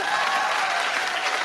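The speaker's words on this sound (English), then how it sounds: "I think we can just clap really loudly one more time." Steady, dense applause from an audience, loud and continuous throughout with no pauses.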